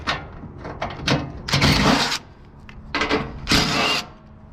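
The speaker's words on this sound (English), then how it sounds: "Breaking down this blower, or at least getting the screws off." A power tool backs screws out of a blower being stripped for scrap metal, giving several short whirring bursts of uneven length with brief pauses between them, close and fairly loud.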